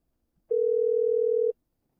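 A single steady electronic telephone ringback tone of about one second, loud and clean, sounding alone in otherwise silent surroundings while a call waits to be answered.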